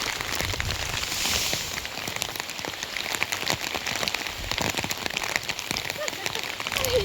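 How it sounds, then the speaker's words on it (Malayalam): Rain pattering steadily on surfaces close by on a rocky hillside, with scattered louder drops and occasional rustling, continuous throughout. "ഇവിടെ മഴ പെയ്യുന്നത് ഞാൻ ഓർത്തില്ല കേട്ടോ"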